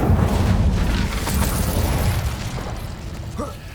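Incendio fire spell cast in the Hogwarts Legacy video game, a loud whooshing blast of flame with a rumbling burst that carries steadily and tapers off slightly toward the end.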